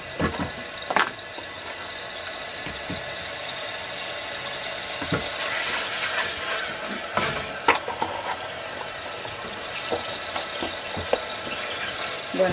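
A spread hits a hot pot for a bitter melon and pink salmon stew, giving a steady soft sizzle and hiss with occasional clicks and taps of stirring, close and moderately quiet.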